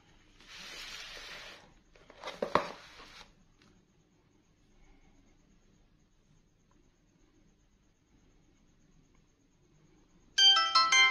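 Ringtone from an Infinix Hot 30 Play phone speaker, heard in short bright bursts: two brief tones early, a long quiet gap, then a louder, sharper melody starting near the end.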